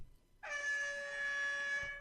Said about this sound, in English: a rather impressive air horn noise when it gets to 0